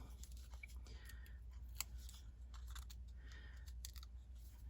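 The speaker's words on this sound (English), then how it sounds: "I'll just peel those off and we can put it down" Adhesive foam dimensionals have their backing peeled off for a papercraft card, giving a few faint, soft crackling peels and small handling sounds against a quiet low hum.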